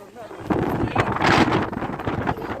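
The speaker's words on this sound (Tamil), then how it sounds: "பயங்கர காற்று நிற்கவே விடலை அப்படி ஒரு காற்று" Strong gusting wind at Vivekananda Rock in Kanyakumari, buffeting the microphone as a steady roar that swells midway, with voices faintly mixed in.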